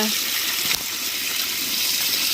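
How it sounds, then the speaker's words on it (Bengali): Water gushes steadily from a motor pump while fish are being washed, a loud continuous splashing flow with a brief voice heard faintly underneath. "দেখেন মাছ ধুচ্ছি মটর দিয়ে"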